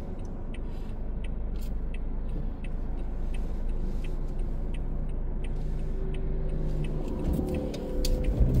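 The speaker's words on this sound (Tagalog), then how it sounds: "kasi ang dami sasakyan." Busy road traffic, a continuous low rumble of passing cars close by with faint ticking over it and a heavier vehicle swelling in at the end.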